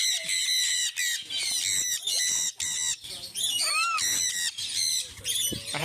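A parrot squawks right beside a person's ear, piercing harsh calls repeating rapidly and very close, with screechy whistles between bursts.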